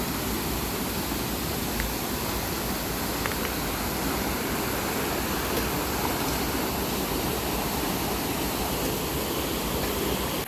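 The Kakopetria waterfall roars as a dense, steady wash of falling water, loud and unbroken throughout with no voices.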